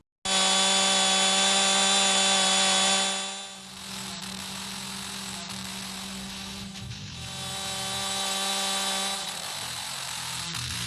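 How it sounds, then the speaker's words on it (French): A sustained chainsaw sample drones as part of a heavy DOOM-style metal track, loud and steady at first, then dipping briefly before continuing with a rough buzzing texture for the rest of the clip. "un petit sample de tronçonneuse qui va jouer tout le long du morceau"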